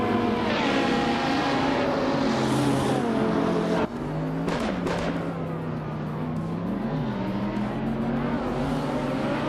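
Race cars in a racing video game launch off the line, their engines roaring loud and near with rising and falling pitch. A sharp shift break comes partway through, then steady high revving continues, with no voices.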